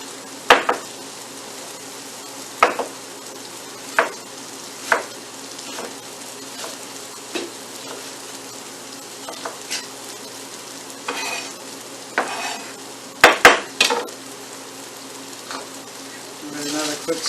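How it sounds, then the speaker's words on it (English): Diced red onion, red peppers and corn stirred in a sizzling pan, a soft steady fry punctuated by irregular sharp utensil scrapes and clanks against the pan. "Another quick stir."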